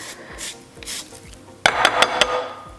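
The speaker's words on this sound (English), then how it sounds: "we need the zest of 1 small lemon" A homegrown Meyer lemon is grated against a zester in short rasping strokes, a few soft swipes followed by a quicker run of louder scratchy passes, close up and alone.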